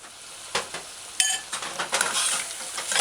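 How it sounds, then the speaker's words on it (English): Goat meat coated with curry powder is stirred in a pot on a medium-low stove, a faint sizzle underneath repeated scraping and clinking of a utensil against the pot, close and uneven. "Stir it in and coat all the meat with the curry powder"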